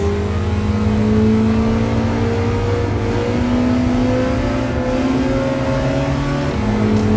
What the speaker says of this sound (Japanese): 3速で最終コーナーを抜けて加速します。